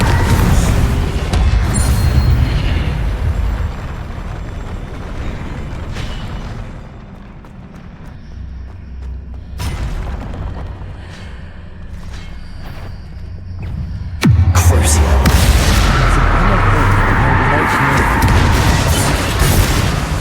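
Explosive Confringo spell blasts in the Hogwarts Legacy video game, booming bursts and crashing debris over a rumbling game soundscape, with a loud renewed eruption partway through and continuing dense noise.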